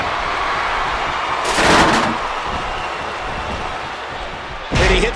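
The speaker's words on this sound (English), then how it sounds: "And he hits the neck breaker." Hard crashing impacts from a wrestling neckbreaker onto a table in a destruction-style match, two loud broadband thuds rising over a constant roaring crowd-like wash.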